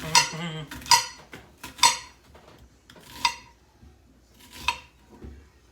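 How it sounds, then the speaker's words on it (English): A kitchen knife slices vegetables into thin strips for sheet pan fajitas, giving five sharp, separate chops on a board at an uneven pace, close and clear with quiet pauses between. "just cut them in little strips like this"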